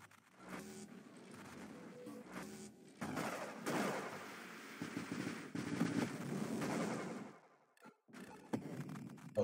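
Rapid bursts of gunfire from the space shooter video game Nova Drift, a dense, loud barrage of shots and explosions with brief drop-outs near the end.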